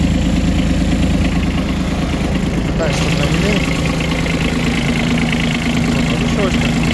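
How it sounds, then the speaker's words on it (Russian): The three-cylinder Kubota engine of a Hinomoto CX-14 mini tractor idles with a loud, steady drone throughout while someone talks over it. "Мотор у нас здесь куботовский, трехцилиндровый."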